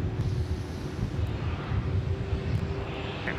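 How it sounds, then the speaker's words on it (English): A China Eastern Airbus A350 jet at Sydney Airport gives off a steady low rumbling engine roar at a distance, mixed with gusty wind buffeting the microphone. "lovely to see the China Eastern 359er coming out to play as well"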